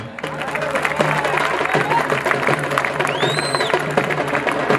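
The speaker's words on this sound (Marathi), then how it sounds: "त्याच्यासाठी टाळ्या वाजवा पुन्हा एकदा जोरदार त्याचं कौतुक आहे" A crowd claps for the winner at an outdoor wrestling final, scattered applause running continuously beneath a loud announcer's voice, with a whistle-like tone briefly cutting through near the end.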